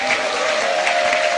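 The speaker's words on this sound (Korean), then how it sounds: "큰 박수로 맞이해 주십시오." Audience applause rising to welcome three guests onto the stage at a political talk concert, a dense, steady clapping from a large indoor crowd that fills the whole moment without speech.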